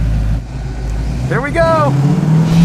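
A 1973 Hornet dirt car's engine rumbles low and loud, then builds as it revs and pulls away, with a voice speaking briefly over it.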